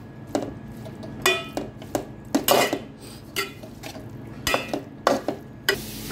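A spoon stirs green bean thoran (payar upperi) in a pan, with rhythmic scrapes and clinks against the metal repeating every half second or so over a soft sizzle.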